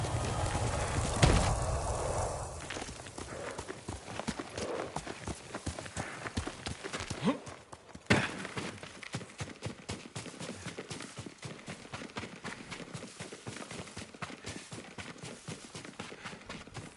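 Horse hooves clip-clop in Ghost of Tsushima, a quick, even stream of close hoofbeats that continues steadily alongside soft wind, with a louder thump or two early on.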